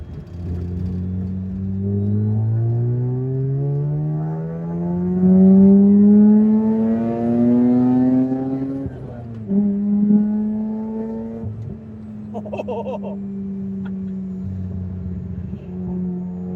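A Mazda RX-8 rotary engine revs through gear pulls, its tone climbing steadily, dropping at each shift and rising again, with a few crackling pops near the end.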